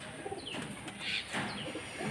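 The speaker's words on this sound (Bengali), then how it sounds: "এই যে এই দুটো পায়রা সেল হবে" Closed-tail pigeons kept for sale at a home loft in Ranaghat give soft, low cooing calls, faint and close against steady background hiss, with a couple of brief rising chirps.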